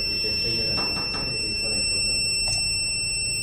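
A steady high-pitched electronic buzzer tone from a microcontroller-based locker security system, triggered by motion, sounds continuously, with faint clicks and background noise beneath it.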